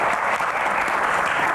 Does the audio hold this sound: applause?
yes